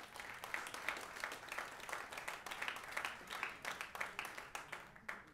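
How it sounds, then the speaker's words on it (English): Scattered hands clapping in an irregular patter, fairly quiet and distant, like a modest crowd applauding briefly at a mayoral candidate's speech. "If you believe that, clap your hands."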